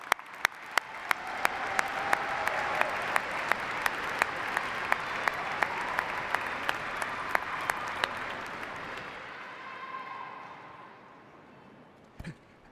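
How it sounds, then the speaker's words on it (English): A large crowd at a spring university commencement ceremony at EKU claps in a long, sustained round of applause with sharp individual claps standing out, fading into quieter room ambience, then a brief thump near the end. "Let's give them one more round of applause."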